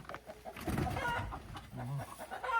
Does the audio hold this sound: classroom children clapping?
no